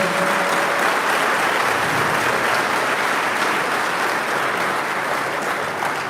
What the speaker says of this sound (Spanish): pues lo recibimos con un aplauso.